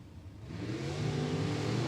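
Drag racing car engine at the California Hot Rod Reunion swelling from a quiet idle into a steady, louder rev as the RPMs climb, close and alone without voices.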